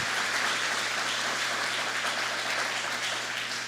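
A church congregation claps steadily and loudly in a dense, continuous wash of applause that holds at an even level throughout, with no voices standing out.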